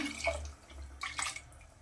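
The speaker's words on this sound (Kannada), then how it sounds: "ಅದೇ ಮಿಕ್ಸಿ ಜಾರ್ ನೀರು ಹಾಕ್ಕೊಳ್ಳೋಣ" Water trickles and splashes briefly into a mixer grinder jar, a quiet, close pour lasting only a moment in a home kitchen.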